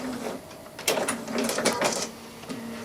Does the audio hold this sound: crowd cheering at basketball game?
no